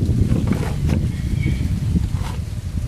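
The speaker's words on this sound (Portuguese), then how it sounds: "O vento é bom aqui, gente." Steady outdoor wind buffets and rumbles across a rural smallholding, a continuous low roar with gusty rustle throughout and no voices.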